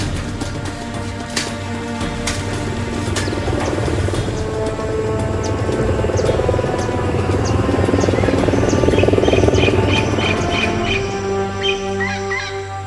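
Rescue helicopters lift off to hunt for the wreck of American Airlines flight 965 over dense jungle, a steady rotor drone that builds and holds throughout while bird calls chirp faintly over it.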